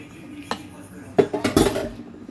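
Plates and cutlery clink and clatter in a home kitchen while eggplant is prepared for frying, a few sharp knocks building to a quick cluster of ceramic clatter, fairly close and otherwise quiet.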